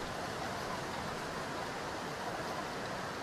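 Waterfall in The Long Dark's Hushed River Valley region, a steady broadband rush of falling water filling the whole stretch at an even, moderate level with no voices over it.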